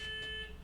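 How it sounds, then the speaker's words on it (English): An alarm sounds one short electronic beep, a thin steady tone that stops after about half a second over quiet background hum. "Ooh, somebody's alarm went off."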